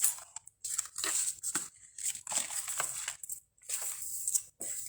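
White cardstock being cut for card making, a series of crisp snipping and slicing strokes with short pauses between them, close and fairly loud with no talking.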